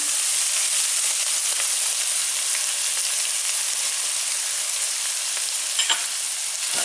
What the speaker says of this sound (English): Now we're going to make a roux. First we have butter. Now we're just going to sprinkle some flour.